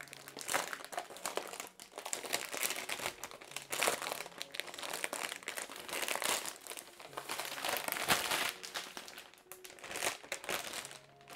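Plastic film wrapping crinkles and rustles continuously as it is handled close up, a soft but steady crackle with no voices.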